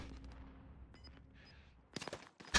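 A short burst of rapid gunshots in a video game near the end, preceded by quieter game sounds and a faint high tone; crisp and punchy.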